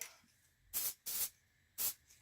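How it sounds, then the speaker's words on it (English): A spray can sprays onto a resin coaster in three short, loud hissing bursts, the first two close together and the third after a pause, with quiet between them. "I'm going to use this and spray it on the coaster."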